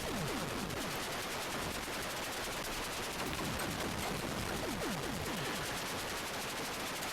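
Rapid continuous gunfire in the Atari 8-bit game Warhawk, harsh buzzing electronic bullet shots fired in a relentless stream with rhythmic descending blips, loud and unbroken.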